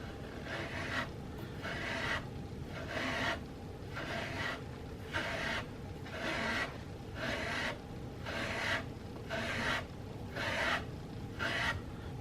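A half round file shapes the mortise in a wooden rifle stock for a CVA Hawken muzzleloader. It makes close, rhythmic rasping strokes, about ten push strokes separated by short pauses, with no talking.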